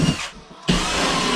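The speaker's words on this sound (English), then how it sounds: "I've drilled my holes in the wall" A power drill bores holes into a wall while a wall plate is being mounted for a hot-water pressure washer setup, two loud bursts of whirring broken by a brief pause.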